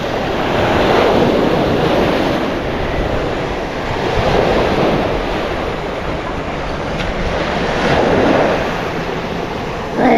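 Ocean surf rolling onto a Sarasota County beach in Florida, a loud, continuous wash of breaking waves with gentle swells in intensity and heavy wind buffeting the microphone throughout.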